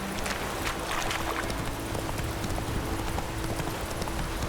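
Horse hooves clip-clop in a steady running rhythm in The Witcher 3, close and fairly quiet, with repeated sharp hoof strikes over a soft continuous background.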